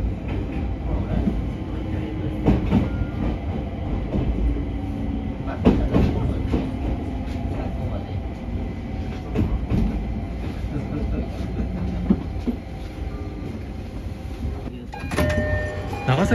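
A rapid train on the old Nagasaki Line in Japan rumbles along continuously with rattles and clunks of the rails, heard from inside the carriage at a steady moderate level.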